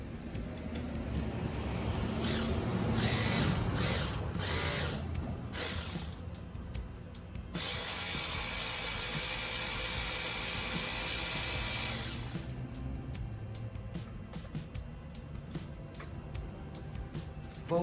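A ratchet backs a 6mm bolt out on a tow truck, a fast, steady run of close clicking with mechanical ringing that continues for most of the stretch at moderate volume.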